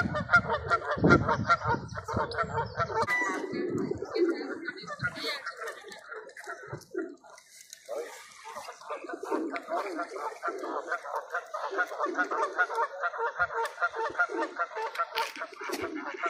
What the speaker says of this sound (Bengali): হাঁসের ডাকাডাকি।